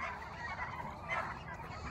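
Turkeys gobble on a farm in a dense, burbling flock chorus, fairly faint and continuous throughout.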